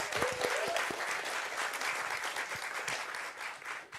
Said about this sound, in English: a round of applause for these guys, please